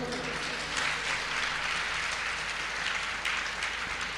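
A large congregation at a Jain monastic gathering in Rishabh Vihar, Delhi, claps steadily and densely throughout, a sustained wash of applause filling the hall with no voices rising above it.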